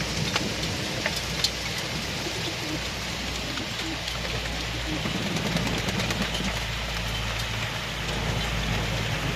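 Hail patters and rattles densely on surfaces in a steady, loud wash in Ankara, with birds cooing faintly in the background.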